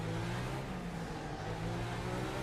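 A Mercedes touring car engine in the RaceRoom racing game holds a loud, steady, sustained drone with firm harmonic tones, revving evenly throughout with no talk.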